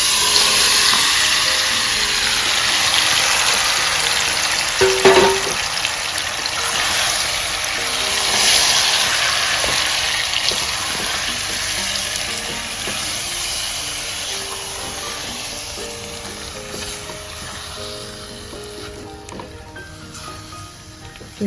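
Mango and spices roasting and frying in a pan for Goan ghotache sasav, a loud continuous hiss and sizzle that slowly fades, with one brief clink partway through and no voices.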